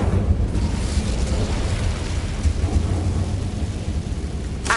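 An Incendio fire spell is cast in the Hogwarts Legacy video game, giving a loud, sustained whooshing rumble of flame that fills the whole moment without voices.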